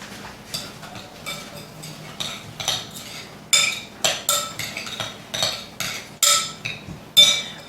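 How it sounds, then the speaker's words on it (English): A spoon scrapes and clinks against a bowl while mixing a filling with parsley and Parmesan cheese, in a rhythmic series of close, sharp taps and scrapes that grow louder toward the end. "I'm going to get this all mixed together. Make like a little filling."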